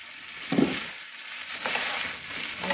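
Chicken gizzards sizzle in a pan with ginger, onion and garlic, a steady close frying hiss broken by stirring scrapes.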